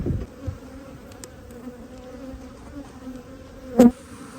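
A swarm of agitated honey bees from a decade-old colony being removed buzzes steadily and close, with a sharp louder buzz from one bee passing near the end.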